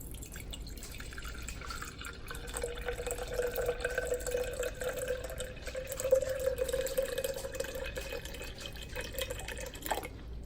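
Spring water pours steadily into a container set on a kitchen scale, a thin continuous trickle rising in pitch as it fills, then stopping abruptly near the end.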